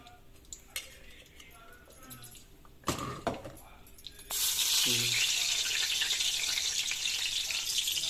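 Tomato pieces drop into hot oil for tomato chutney, a clatter of utensils giving way to a sudden, loud, sustained sizzle that crackles on steadily after a brief voice.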